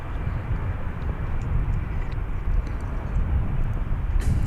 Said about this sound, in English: Got a Cessna Citation XLS, a 560 XL Cessna Citation XLS.